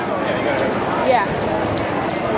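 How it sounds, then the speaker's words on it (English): Heavy vertical rain from the start of Hurricane Matthew at Walt Disney World, a loud, steady, dense hiss of downpour filling the whole stretch, close to the microphone, with faint talk underneath. "we have vertical rain actually right now"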